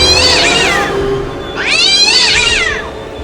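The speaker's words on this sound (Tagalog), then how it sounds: "Iyan ang pusa noong nakaraang gabi." A cat meows twice in a castle setting, two loud, drawn-out wailing cries close by with a short pause between them and a dim background hum underneath.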